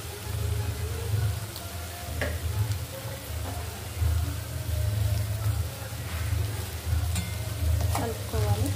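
Barbel fish fry stirred in a pan with salt and chili, a steady sizzle under scraping spoon strokes and light clinks, continuous and close throughout.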